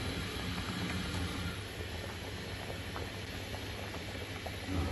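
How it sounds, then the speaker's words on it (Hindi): Water rolls at a steady boil in a pot while mutanjan, a sweet rice dish made with desi ghee, is being cooked. The bubbling is a constant dense hiss with no voices over it. "पानी को जोश आ गया है।"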